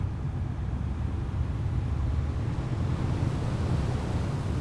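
Ocean waves in the early-access ship game Ships at Sea roll as a constant, full rushing wash of surf and wind, heavy in the low end and unbroken throughout, with no voices.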